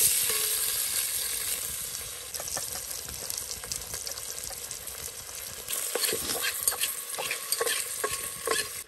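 Masala spices sizzle and fry in a pan while being stirred, cooked over a camp setup in a forest; a steady loud sizzle runs throughout with scraping stir strokes growing busier toward the end.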